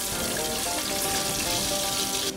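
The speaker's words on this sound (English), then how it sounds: "I want to fry it until the point where it's juicy on the inside and crispy on the outside" Chicken deep frying in hot oil makes a dense, loud, even bubbling sizzle that fills the scene close up and holds steady throughout, with no talk.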